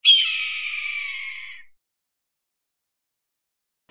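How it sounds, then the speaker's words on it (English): A falcon gives one loud, shrill, harsh screeching call lasting about a second and a half, close and alone, then cuts off to silence. "Falcon."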